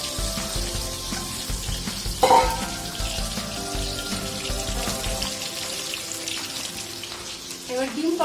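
Slit eggs fry in hot oil in a pan for an egg curry, giving a steady, continuous sizzle with a few sharper spits and utensil clinks.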